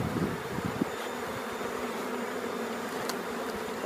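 Honeybees buzz steadily around open hives during a beekeeping course, a dense close hum of many insects filling the whole stretch without pauses.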